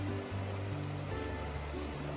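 Continuous rushing of a flowing stream beside a trail campsite, a steady watery wash heard alone without talk.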